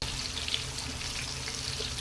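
Chicken 65 pieces deep frying in hot oil, road-side shop style spicy chicken fry, giving a continuous dense bubbling hiss at close range throughout, with no other sounds over it.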